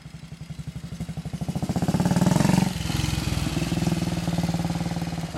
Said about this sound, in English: And Pete's been trucking along today on this, good for 50 plus miles an hour